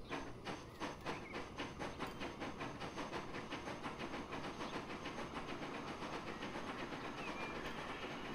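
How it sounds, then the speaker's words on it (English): A long train rolls along the track in the Transport Fever 2 video game, with steady rhythmic clickety-clack over a continuous rumbling hiss, loud and unbroken throughout, with no talk. "So now we've got our long train in here."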